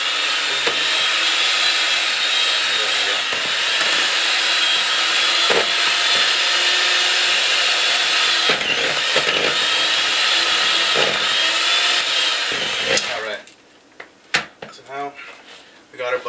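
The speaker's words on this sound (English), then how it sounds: "I'm just going to get an electric mixer and just sort of mix it until it's softened a bit." An electric hand mixer whirs steadily at close range as it beats butter with powdered sugar, a continuous high motor whine that stops near the end, followed by a voice speaking.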